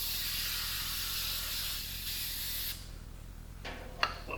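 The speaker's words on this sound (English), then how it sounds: "Little silicone spray." Silicone spray hisses steadily from an aerosol can while working on a 1977 Oldsmobile Cutlass Supreme, a continuous close spray that cuts off partway, followed by a few small clicks and handling noises.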